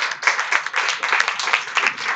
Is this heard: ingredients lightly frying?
no